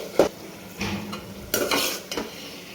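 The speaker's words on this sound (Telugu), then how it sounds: "మధ్యలో ఒకసారి మూత ఓపెన్ చేసుకొని ఒకసారి ఇదంతా ఇలా కలుపుకోవాలి అడుగంటకుండా." Tomato curry with flat beans being stirred in a pan, a few separate scraping strokes of a spoon against metal over a faint simmer, close and without talk.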